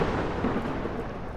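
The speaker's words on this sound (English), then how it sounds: "Actually, the storm is really cool." A roaring storm in Ark Survival Ascended, likely a sandstorm, gives a steady, dense rumble of wind and noise that stays loud and unbroken throughout, with no voices.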